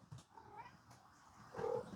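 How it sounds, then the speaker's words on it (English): Pet cats romp and run around a room, with scattered soft thumps and scuffles and a brief vocal cry near the end, fairly close and mid-level in volume, with no talking. "Sorry about all the running around. My cats are having fun."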